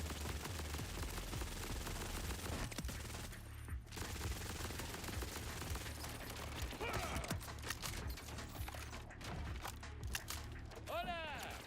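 Turret gunfire in Borderlands 4 erupts in rapid automatic bursts, loud and dense, layered over a continuous busy mix of other game sounds.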